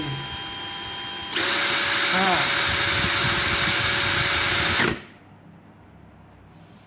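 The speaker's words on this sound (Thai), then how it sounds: "สว่านนี่สามารถเร่งคันเร่งได้ถึง5ระดับนะครับ" A Makita DHP484 cordless drill whirs loudly at a high speed setting for about three and a half seconds, then cuts off, with someone speaking briefly before it starts.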